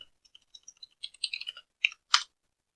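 Someone types on a computer keyboard, a few light, sparse key taps building to a quick burst of clicks and ending with one firm keystroke, heard alone in a quiet room.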